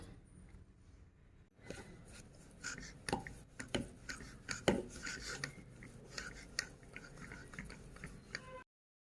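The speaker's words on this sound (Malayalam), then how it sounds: "ഇനി നമുക്കിത് കനം കുറച്ച് പരത്തിയെടുക്കാം" Samosa dough is rolled out thin for pinwheel samosas, with irregular scraping, rasping strokes and soft knocks of a rolling pin on a board, close and fairly quiet, repeating steadily.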